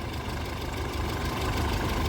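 A military car stands idling at a front-line position in Donbas, its engine, which has had cylinder-head work after overheating, giving a steady loud rumbling rattle up close.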